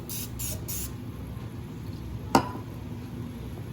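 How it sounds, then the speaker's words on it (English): Three quick bursts of cooking spray hiss onto a square waffle maker, close and fairly loud, followed by a single sharp click. "And I spray the bottom,"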